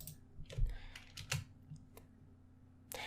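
Typing on a computer keyboard while entering an address into a web browser, a few soft scattered keystrokes close by in a quiet room.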